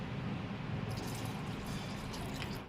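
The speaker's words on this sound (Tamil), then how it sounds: "இப்போ 2 டம்ளர் தண்ணி ஊற்றிக்கோங்க" Two tumblers of water poured into ground coconut masala for a Tamil chicken kulambu in a cooking pot, giving a steady, continuous close splashing and gurgling pour that lasts the whole moment without talk.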